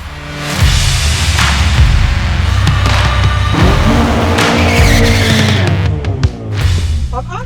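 A car launching off the line at Santa Pod drag strip, engine roaring loud and steady with skidding tyre squeal throughout, a brief thump near the end.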